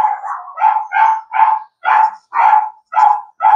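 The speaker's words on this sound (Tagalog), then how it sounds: "Ang aso tumatahol, guys." A dog barks close and loud in a run of about eight sharp, evenly spaced barks, with brief gaps between them and no other sound around.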